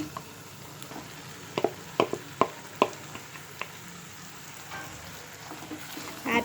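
Mashed potato is stirred into sautéed tomatoes for a potato masala, making a quiet sizzle broken by a run of sharp spoon taps and scrapes against the pan.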